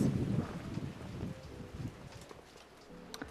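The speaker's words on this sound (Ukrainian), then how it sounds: "дуже вітряно" Strong wind buffets the microphone in a steady, rumbling roar with low gusty surges and no voices.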